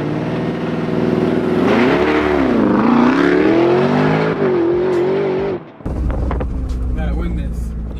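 A Lamborghini Urus Performante and a Porsche Cayenne Turbo GT launch side by side in a drag race, engines roaring loud and close as revs sweep up through a gear change, then a sharp break and a rushing, fading pass.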